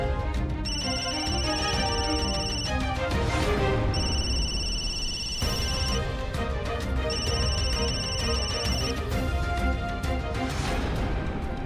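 A phone rings on an outgoing call in a Marathi TV drama scene, with a steady repeating ring pattern running across the whole stretch, loud over background music.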